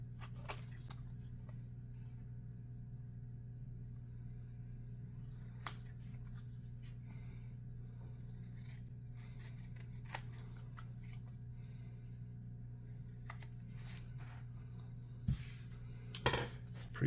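Scissors snip out a paper template for an Estes Red Flare model rocket, with soft, close cuts and paper rustles spread over a quiet hum, plus a few sharper clicks near the end.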